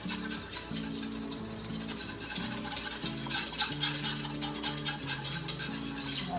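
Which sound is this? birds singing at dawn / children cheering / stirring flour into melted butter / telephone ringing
stirring flour into melted butter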